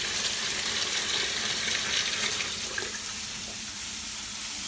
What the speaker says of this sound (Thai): เติมน้ำครับมันน้ำญี่ปุ่นกะกินได้ด้วยครับ